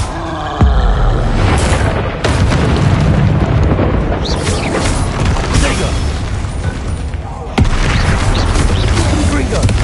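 Explosive Confringo spells burst in the Hogwarts Legacy video game, several loud booming blasts with sharp onsets and rumbling tails that follow one another over about ten seconds, while a player talks over the din.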